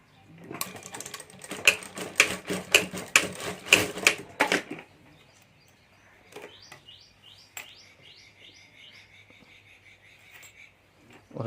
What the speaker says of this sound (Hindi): तो यहाँ मैं सिलाई कर देता हूँ।